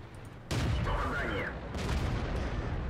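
A tank cannon fires in World of Tanks with a single sudden, loud blast that rolls into a rumbling tail, followed about a second later by a second broadband burst.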